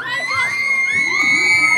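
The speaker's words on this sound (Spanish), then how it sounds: "La porra está tremenda de este lado, mi Edgar." Crowd at a lucha libre wrestling show in Arena Leyendas cheering, shouting and shrieking in high-pitched voices, a loud continuous roar with whistles and yells throughout.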